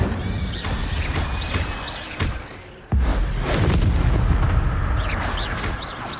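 An Incendio fire spell is cast in the video game Hogwarts Legacy, a loud, roaring burst of flame with a sharp boom partway through, amid dense combat noise and no speech.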